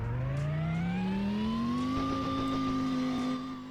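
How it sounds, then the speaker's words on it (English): A 1,750-horsepower pickup truck engine, with turbo and supercharger, revs up steadily in one long climbing wail toward the soft limiter, loud and close, then drops away at the end. "I'll rev all the way"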